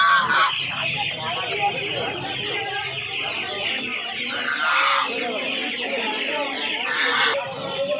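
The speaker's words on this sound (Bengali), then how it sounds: "আজকে হাটে প্রচুর কালেকশন রয়েছে বড় বড় মুরগির" Many chickens cluck and squawk continuously at a busy hen market, with occasional louder bursts of fowl calls over a steady crowded din and people talking in the background.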